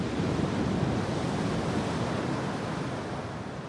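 Ocean surf breaking on a Basque Country or Landes beach, a continuous broad wash of crashing waves with a wind-like roar, steady and full throughout before easing slightly toward the end.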